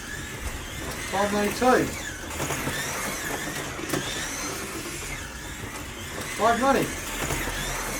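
A Scalextric Ford Mustang #18 slot car whirs around the track lapping, its motor whine rising twice as it passes close, under a steady hum while someone talks.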